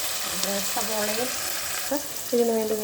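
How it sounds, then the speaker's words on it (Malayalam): Onion and tomato sautéing in a pan for kadala curry, a steady close sizzle with a few stirring scrapes, while a voice talks over it in bursts. "അത് കഴിഞ്ഞിട്ടൊരു സവോളയും തക്കാളിയും കൂടി ഇട്ട് വഴറ്റുകയാണ്."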